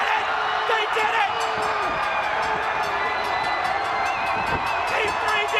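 A wrestling arena crowd roars and cheers after Team 3D wins the NWA Tag Team titles, a dense, sustained wall of cheering and whoops with voices mixed into the din.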